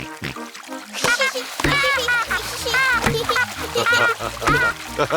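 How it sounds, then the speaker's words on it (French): Cartoon children kick their legs in a swimming pool, sending up repeated loud splashes and splatters of water in an irregular rhythm, with high childlike voices squealing and chattering over the splashing throughout. "Bravo, mais n'éclabousse pas autant."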